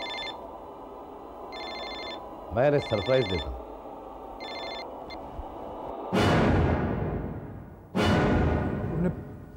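A telephone rings in repeated short electronic trill bursts in a Hindi TV drama scene, with someone speaking between rings and loud crashing musical stings following.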